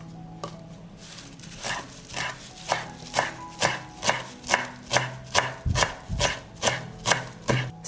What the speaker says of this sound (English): now I'm going to chop the parsley